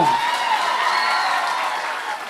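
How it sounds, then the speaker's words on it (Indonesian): Applause from a school audience during a governor's working visit to SMA Negeri 1 in Ternate: a short, steady wash of clapping that tapers slightly toward the end. "Tepuk tangan SMA Negeri 1."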